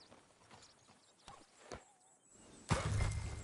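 A horse moves about in the Red Dead Redemption 2 video game: faint, sparse hoof thuds sound at a distance, then a louder shuffling noise rises near the end.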